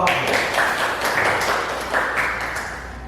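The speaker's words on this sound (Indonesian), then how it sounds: "Tepuk tangan untuk kelompok." A class in an Islamic studies school lesson on marriage applauds a student group with continuous, fairly loud clapping that runs for about three seconds and tapers slightly at the end.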